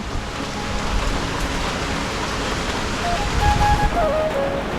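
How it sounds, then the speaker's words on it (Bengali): Heavy rain falls during a motorbike ride on a slippery road, a loud, dense, continuous hiss of rain and wind with no speech. "খুব বৃষ্টি"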